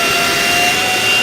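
A Midea Agil 2-in-1 upright vacuum cleaner runs steadily with a loud, close, broadband whooshing roar and a thin motor whine, unbroken for its short length.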